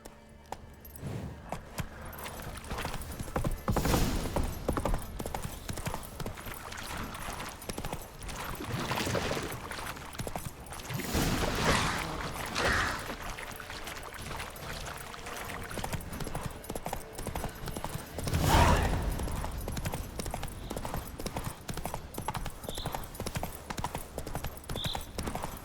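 Roach the horse gallops in The Witcher 3, a steady run of hoof clip-clops at moderate loudness that continues throughout, with jangling tack and occasional louder thumps over a background of game sound.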